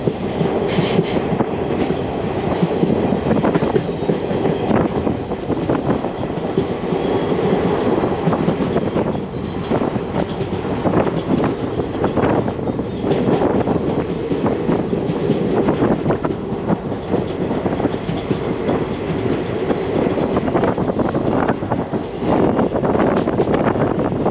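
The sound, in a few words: train slowing into a railway station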